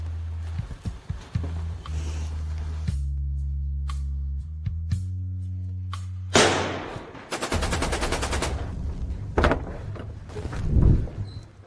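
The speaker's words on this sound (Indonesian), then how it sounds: "Kenapa ada tembakan di luar?" Bursts of gunfire from outside a residence crackle in rapid volleys after a low droning passage with scattered knocks, the shots loud and sharp, followed by more rattling impacts.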